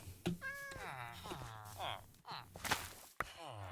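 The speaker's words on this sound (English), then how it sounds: "That cat is concerning me." A cat meows several times at close range, the calls rising and falling in pitch, with short gaps and a few light thumps between them.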